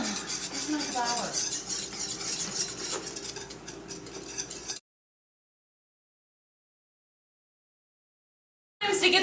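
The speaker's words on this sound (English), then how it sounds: "Keep stirring with the whisk" A whisk scrapes and clinks rhythmically against a bowl while mixing batter for cinnamon rolls, close and busy for several seconds, then cutting to silence before a brief burst of kitchen sound returns.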